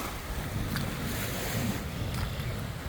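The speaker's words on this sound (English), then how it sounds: "I love the sound of the water." Water lapping against the shore of Mille Lacs Lake on a chilly day, a steady soft wash of small waves with wind noise across the microphone throughout.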